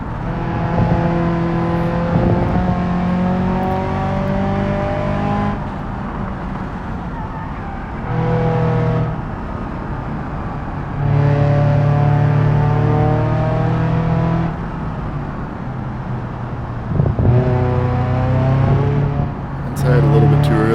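An Ibishu 200BX engine revs hard during hotlaps in a driving game, rising and falling through gear changes for about twenty seconds, loud and close, with no talk.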